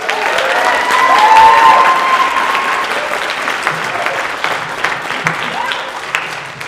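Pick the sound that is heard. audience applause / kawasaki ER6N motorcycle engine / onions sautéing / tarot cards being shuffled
audience applause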